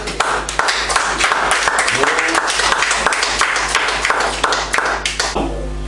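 A church congregation breaks into sustained applause during a worship service, dense overlapping claps filling the room steadily for several seconds before tapering off at the end.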